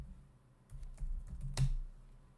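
Fingers tapping keys on a computer keyboard in a short run of quick, light keystrokes with a louder final press, close and quiet in an otherwise still room.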